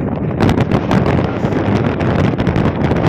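Steady wind buffets the microphone at a seaport in Mercedes, Eastern Samar, a loud continuous roar with gusty low-frequency rumble and no voices.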